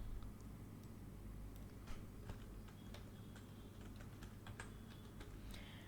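A password is typed on a computer keyboard, a string of quick, light key clicks in an irregular rhythm. The taps are close but faint over a quiet room hum, with no talking.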